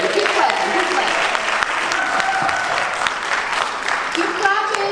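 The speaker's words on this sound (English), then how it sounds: "Keep clapping, keep clapping." An audience at a poetry event claps and cheers, dense continuous applause filling the room, with a few scattered whoops and voices rising out of the crowd noise.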